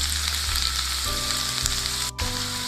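Finely chopped garlic and green chili fry in hot oil for egg Manchurian, giving a continuous, close, bright sizzle with a faint low hum underneath and one brief dip near the end.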